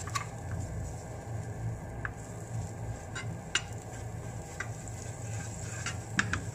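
A little butter sizzles in a separate frying pan, a quiet, steady hiss broken by occasional soft clicks and taps of a utensil.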